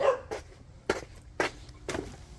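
A lone dog barks in the rain-soaked garden beside a 500-litre rubber tub of fish, four sharp barks spaced about half a second apart, moderately close.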